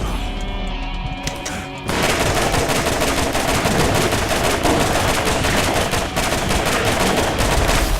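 Rapid automatic gunfire from a weapon in Borderlands, a dense stream of loud shots running steadily for several seconds after a brief quieter stretch at the start.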